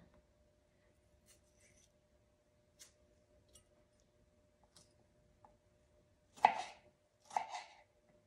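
A knife slices through a tomato on a board, giving a few faint taps followed by two louder, close cuts near the end in an otherwise quiet kitchen.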